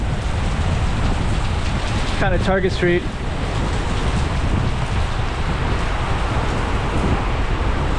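Heavy rain pours steadily onto Almirante Sérgio Street in Macau, a dense continuous hiss close around, with a person speaking briefly partway through.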